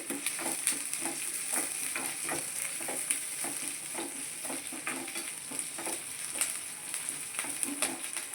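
Spices and red chillies fry in hot oil in a pan for raw-rice upma. A steady close sizzle runs throughout, broken by regular scrapes of a stirring spoon.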